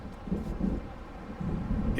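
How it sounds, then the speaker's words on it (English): Thunder from an approaching storm in Alan Wake Remastered, low rolling rumbles swelling and fading under a steady windy background. "It seems there's a storm coming."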